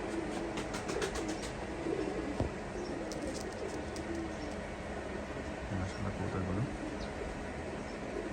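Soft repeated cooing of golden pigeons in a loft, faint and low under a background murmur with a few sharper clicks and chirps.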